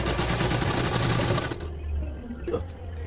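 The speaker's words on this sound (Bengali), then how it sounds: "তো আমি পুরোটা এইভাবে চাপ সেলাই করে নিলাম" A sewing machine runs a fast, buzzing stitch along the edge of a sari fall for about a second and a half, then stops and leaves a few small clicks and handling sounds.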